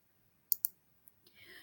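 Two quick computer mouse clicks, close and crisp, while a spreadsheet chart is being formatted, followed by faint rustling and a soft hiss.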